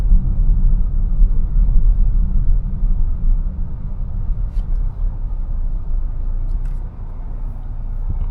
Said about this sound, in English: So you get a little engine noise, you can hear it when you're giving it, you know, partial throttle or whatever